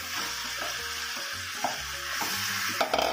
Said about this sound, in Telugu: ఇప్పుడు మనం మ్యారినేషన్ చేసుకున్న చికెన్ని దీంట్లో వేసుకుంటున్నాను